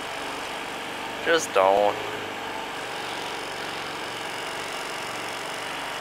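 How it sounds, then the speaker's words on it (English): A 2005 Honda Metropolitan moped engine idles in a steady low drone after a carburetor clean-out, with a brief spoken phrase near the start over the running motor. "Here's the Honda Metropolitan. It runs."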